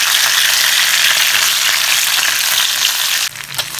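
Jalebi tilapia fish frying in oil in a pan, a loud, steady, close sizzle and crackle that drops off sharply near the end as the fish is lifted out.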